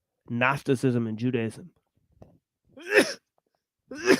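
A single short sneeze bursts out after a stretch of someone talking, followed by a pause and more speech.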